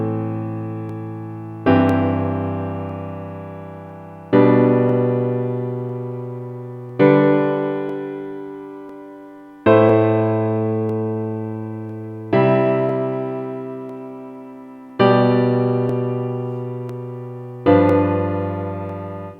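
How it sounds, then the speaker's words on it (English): Piano chords played back in Notion notation software, eight sustained chords struck one after another at a slow, even pace, each ringing out and fading before the next, with no other sound. "And here you can see we've got some piano chords"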